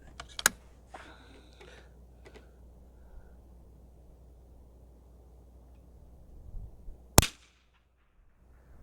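A rifle shot fired at a target on a shooting range, a single sharp, loud crack with a short ring-off near the end, following an earlier shot-like report and faint clicks of handling against quiet outdoor background.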